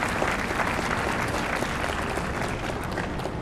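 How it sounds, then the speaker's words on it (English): Steady, dense crowd applause fills an outdoor Fort Mill Fourth of July celebration, many hands clapping at an even level for the whole stretch with no voices on top. "If I could have a warm applause for all of those folks for being here today."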